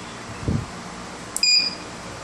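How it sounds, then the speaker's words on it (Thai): A top-up kiosk control board gives a single short, high electronic beep as power is applied, clear over a faint steady hum, preceded by a brief dull knock. "จะสังเกตเมื่อจ่ายไฟ จะสังเกตว่าจะมีเสียงดังปี๊บนะครับ"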